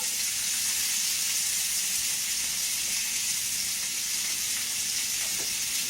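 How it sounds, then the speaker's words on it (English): Onion frying in a hot, smoky pan in a home kitchen, giving a steady, loud, even sizzle that hisses without a break. "let's go ahead and put our onion in it"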